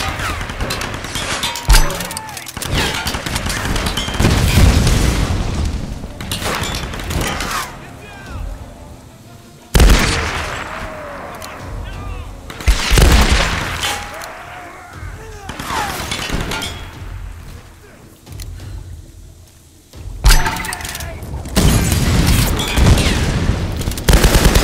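Repeated gunfire at an enemy in Tomb Raider, loud sharp bursts and booming shots at irregular intervals over game ambience, with a voice talking over parts of it.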